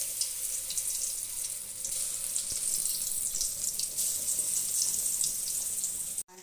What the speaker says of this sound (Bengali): সরষের তেল দিয়ে ভেজে নিচ্ছি।